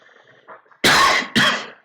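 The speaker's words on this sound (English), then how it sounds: "I know I'm coughing" A man with a dry throat gives two harsh, close coughs about half a second apart, loud and unaccompanied after a near-silent lead-in.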